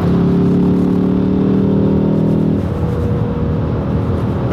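A Ford Focus ST accelerates with a loud, steady engine drone that drops to a lower, rougher road rumble partway through, with no talking.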